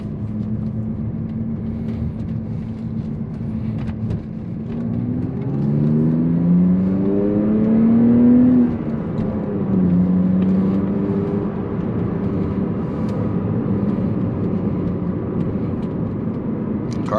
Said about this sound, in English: Starting the car up with sport mode